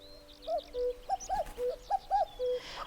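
A common cuckoo calls in the Burren, Ireland. Its soft, clear two-note phrases repeat in a steady rhythm, moderately distant against a quiet outdoor background with no talk.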